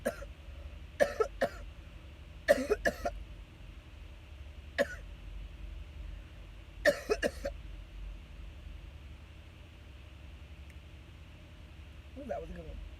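Several bursts of coughing and throat clearing after smoking, spaced irregularly across the stretch with quiet pauses between, close and moderately loud, with faint vocal noise near the end.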